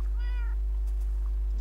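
A cat in the Minecraft video game gives a single short meow near the start over a steady low hum, followed by faint soft clicks and no talking.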